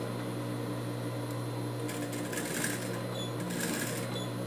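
Sewing machine stitching a leather strip for a dog shoe, a steady motor hum with a brief run of quick stitching in the middle and again near the end.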